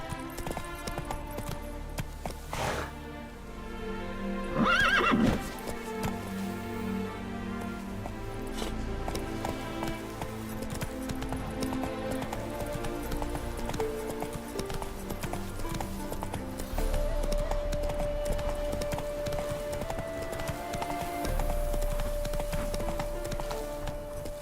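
Roach the horse runs in The Witcher 3 video game, hoofbeats clopping under a dense layer of game music and ambience, continuous and moderately loud with no talk.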